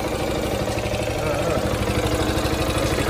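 A Yamaha TownMate 50cc four-stroke motorcycle idles steadily just after a first-kick start, a close, even pulsing engine note running without a break.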